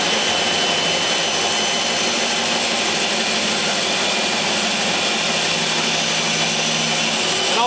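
A power saw making a straight cut across a sheet of acrylic, a loud continuous high whine and rasp that stays steady and close throughout, with no talking.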